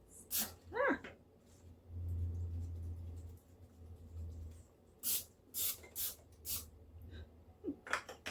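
Several short, sharp hissing sprays of cooking spray, one burst then a quick cluster of three or four, close by and fairly quiet.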